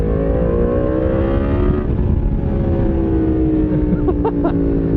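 A Yamaha MT-10SP motorcycle engine holds a steady, loud drone with a rising pitch as the revs climb, then short sharp blips near the end.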